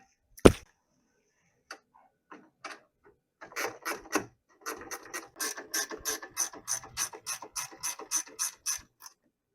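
Ratchet wrench removing 10 mm bolts from the radiator support on a 2013-2014 Mercedes C300 (W204): a sharp knock, a few scattered clicks, then a long run of steady, rapid ratcheting clicks close up, with no talking.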